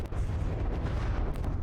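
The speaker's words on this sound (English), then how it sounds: "Man, the explosions just sound weird and lag." Missile explosions in the From The Depths combat game, a dense continuous rumble of booming blasts and crackling bursts that overlap without pause for the whole short stretch, loud and close.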